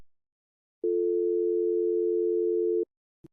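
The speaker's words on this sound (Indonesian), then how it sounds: "Tapi ini berdering" A single unanswered telephone ringback tone, steady and clear, holding for about two seconds before cutting off, followed by a short second burst at the end; no voices.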